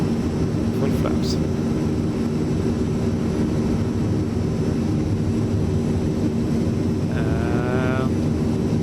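A Transall C-160R turboprop transport in MSFS 2024 drones steadily with full flaps out on approach, a continuous engine hum with brief higher whines, while someone talks over it.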